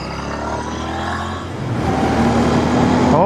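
A Barcelona Blue Royal Enfield INT650 motorcycle engine idles steadily and then revs up louder and rougher about halfway through, close and continuous, with no voices.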